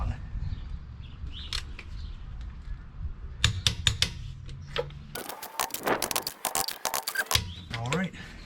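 On a 2020 Jeep Gladiator a rear wheel's lug nuts are torqued down with clicking ratchet sounds and sharp mechanical bursts, close up, with someone talking around them.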